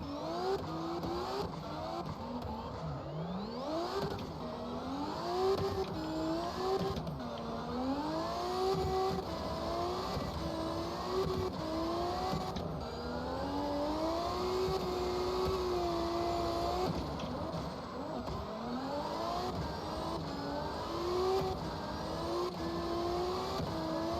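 A drift car's engine in CarX Drift Racing 2, tuned with boost turned up and anti-lag off, revs continuously, its pitch rising and falling in repeated sweeps over tire noise, loud and alone with no talk.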